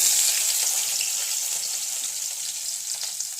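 Onions fry in a pan with a dense, loud, bright hiss of sizzling oil that stays steady and close throughout, slowly easing slightly in intensity, with no voices.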